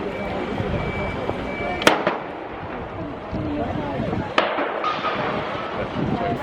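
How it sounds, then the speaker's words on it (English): A car park fire sends out scattered sharp bangs from exploding fuel tanks and windows, two loud cracks standing out over a steady roar of noise and background voices. "It sounded like bombs going off, just like all these bangs where I think it was probably fuel tanks"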